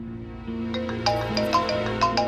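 A phone ringtone plays a repeating melodic electronic tune, clear and close, for a couple of seconds with no talking over it.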